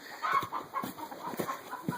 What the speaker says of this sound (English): I thought they might want to see the chickens.